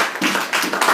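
A church congregation claps for God in rhythmic bursts, dense and close, with a hint of cheering voices mixed in.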